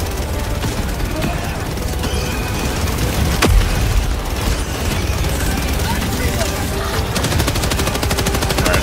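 Dense, continuous automatic gunfire from a first-person shooter fills the mix, with steady rapid bursts and booms layered under a player's game session; a sharp single blast stands out near the middle and a fast chattering machine gun rattles toward the end.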